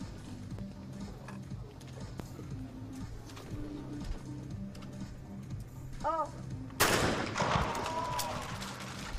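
Shotgun blasts ring out during a women's trap shooting final at the 2021 Chinese National Games, one sharp loud report standing out near the end amid crowd and venue ambience and scattered smaller bangs.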